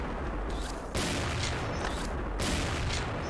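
Rapid bursts of gunfire ring out in the shooting game XShot, a dense, loud clatter of shots with short breaks between volleys and no talking.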